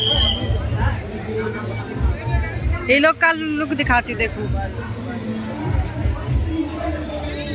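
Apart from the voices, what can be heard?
crowd at a water park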